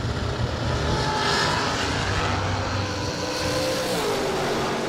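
A Holley-powered dragster races at a drag strip season kick-off event, its engine a loud, steady, dense roar that holds throughout with no talk.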